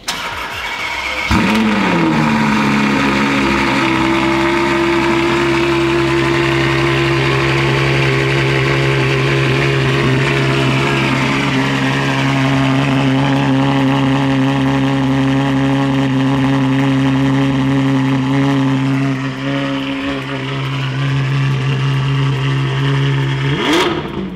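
A Ferrari F12 fitted with a Novitec exhaust fires up with a sharp burst, then holds a loud, steady, droning rumble with slight swells in pitch, close by and without talk.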